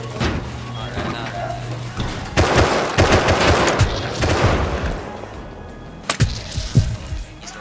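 Rapid automatic gunfire from an auto turret in the survival game Rust, loud bursts of repeated shots mixed with other game noise, with someone talking over parts of it.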